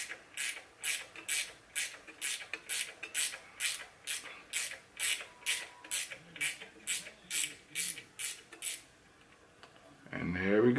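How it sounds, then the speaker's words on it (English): Ratchet wrench loosening bolts on an engine on an engine stand during an oil pump and water pump install: about sixteen rapid, evenly spaced ratcheting bursts, close and crisp, followed by a brief pause and a heavier clunk at the end. "Let's use a wrench."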